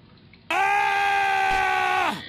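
A video game character lets out one sustained, loud scream that starts abruptly, holds steady for well over a second, then trails off.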